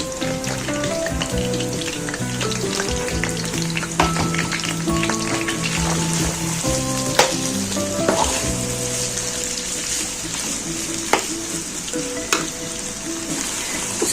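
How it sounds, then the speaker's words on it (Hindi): Chopped onions fry in hot oil for an onion and tomato chutney, a loud, steady close sizzle with occasional stirring clinks throughout and no talking. "अब हम इसमें डाल देंगे अनियन जो मैंने अच्छे से कट कर ली थी।"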